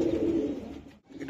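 A King pigeon coos once in a loft, a short low throaty call heard close and alone before a brief pause.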